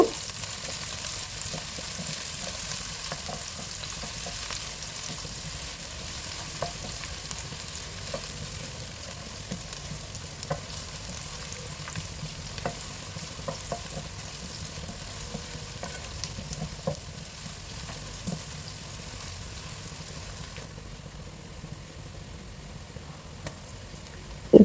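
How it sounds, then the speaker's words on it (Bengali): Chopped onions fry in hot regular cooking oil for khichuri, with a continuous soft sizzle and occasional ticks and stirring scrapes throughout. "তেলটা গরম হয়ে গেছে পেঁয়াজ কুচি দিয়ে দিলাম এখন পেঁয়াজটাকে একটু ভেজে নিব"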